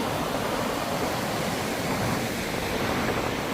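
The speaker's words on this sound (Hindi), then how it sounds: "ये जम्मू हाईवे पे है और नदी देखिए क्या तूफान पे चल रही है।" Constant loud roar of rushing water, broad and unbroken, from a swollen, flooded river churning beside the Jammu highway, with no voices.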